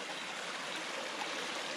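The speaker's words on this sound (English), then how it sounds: "this main valley right here has got quite a bit of water flow" Water rushing steadily down a valley stream fed by a spring line, a dense, continuous broadband wash close by with no other sounds.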